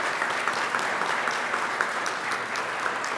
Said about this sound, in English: Give them a round of applause for them.